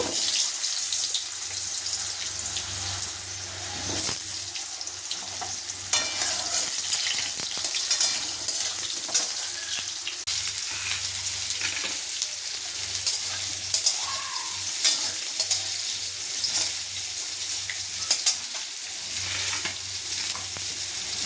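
Cut potatoes fry in hot fish-frying oil with a little water, a constant loud sizzle broken by scraping stirs and light clatter, close up with no talk.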